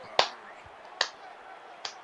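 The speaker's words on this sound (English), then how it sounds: "In case you couldn't tell, I was clapping there." Three sharp hand claps spaced roughly a second apart, fairly close and loud against a quiet background hiss, heard during a college football video game session.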